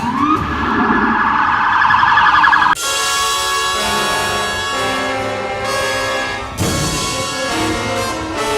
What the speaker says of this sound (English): Ambulances, cop cars, chaos.